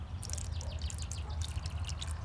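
Water from a pitcher pours out in a faint, splashy trickle, with bright, uneven gurgles and drips coming in bursts over a low background rumble.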